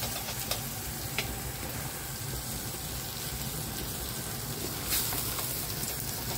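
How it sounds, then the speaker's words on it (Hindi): Ingredients for Afghani pulao being stirred in a cooking pot, a steady bubbling sizzle with soft wet mixing scrapes and a couple of brief clinks, fairly close and without talking. "अब ये साथ इसमें आप ऐसे मिक्स करें।"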